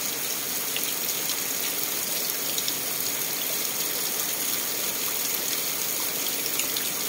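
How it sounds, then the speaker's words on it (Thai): Early morning rain falls steadily on a farm, a dense, continuous hiss with scattered nearby drips and splashes and no pauses. "ทุกคนฝนตกตั้งแต่ 5:00 จ้ะ"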